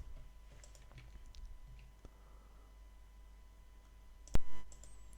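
One crisp computer mouse click lands on a merge button near the end, standing out alone against a low, quiet room hum.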